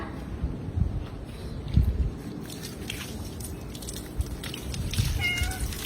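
A cat meows during a bath, a few short cries sitting under steady wet splashing and water noise close by, with no talk over them.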